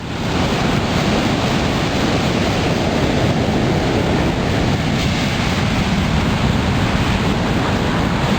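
Ocean waves wash steadily onto Itaipuaçu beach, a loud, continuous roar of surf with wind noise on the microphone and no breaks over several seconds.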